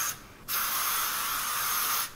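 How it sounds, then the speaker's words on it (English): Heat protectant is sprayed onto hair in two close bursts, a loud steady hiss with a short break between them. "I'm just gonna spray this product all over"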